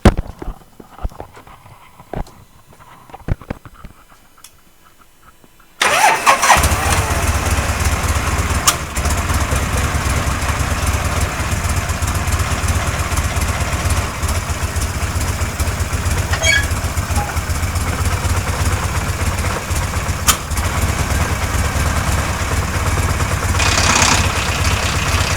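A 1980 Harley-Davidson FLT Shovelhead motorcycle starts after a few quiet footsteps and handling sounds, then idles loud and close with a steady, rough rumble, no one speaking.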